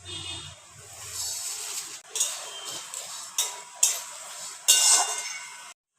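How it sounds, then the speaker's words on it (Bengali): Whole spices for a jackfruit kofta curry dry roasting in a pan, with a steady scraping hiss and several sharp clinks and rattles as the spices are stirred, close and moderately loud, with no talk. "এগুলোকে শুকনো খোলায় আগে ভেজে নেব।"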